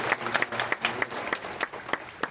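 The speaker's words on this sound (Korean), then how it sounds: "잘 들리시는 분은 박수 한번 더 주세요." An audience at a pastor's book concert claps in a short round of applause, with a handful of sharp individual claps standing out over a softer, scattered patter.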